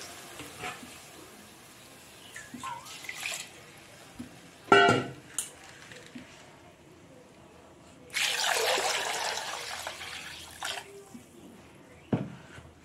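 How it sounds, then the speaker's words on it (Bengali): Rice and lentils are washed in water, with intermittent splashing and trickling, a sharp clink midway and a sustained pour of running water later, separated by quiet gaps. "এটাকে ধুয়ে নেব। চাল আর ডাল ধুয়ে নিয়েছি।"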